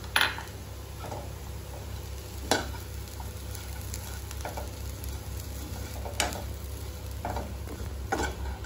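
Grated dry coconut frying in a pan with oil, a steady close sizzle broken by a few sharp scrapes of a stirring spoon every couple of seconds, under a constant low hum and with no talking.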